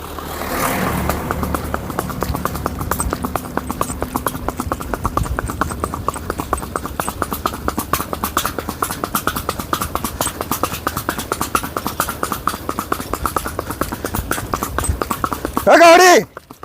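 Steady clip-clop of a Sindhi mare walking at a lively pace, the hoofbeats close and regular for most of the stretch, with a brief louder burst of noise near the end.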